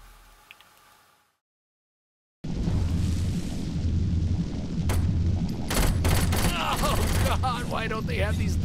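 Flaming-bullet gunfire in the video game Saints Row IV erupts after a short silence, a loud, dense fusillade of shots and booms with mechanical clatter running continuously.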